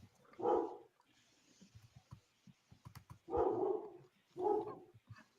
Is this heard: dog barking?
yes